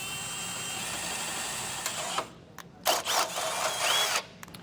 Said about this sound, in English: Now that we have that hole drilled